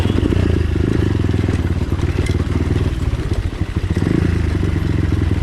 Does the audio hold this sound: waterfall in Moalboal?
no